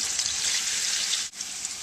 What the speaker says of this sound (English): So now that this is sizzling away, I'm going to put in the figs.